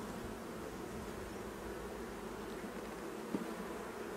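Honeybees buzz steadily in an opened beehive during a spring hive inspection, a low, even, continuous drone that is fairly faint and close, with one small knock partway through and no talking.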